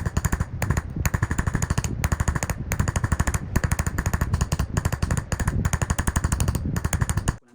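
A chisel engraving shading into a copper plate, a loud, rapid machine-like hammering of metallic taps in a dense steady train, with brief pauses between runs, close by.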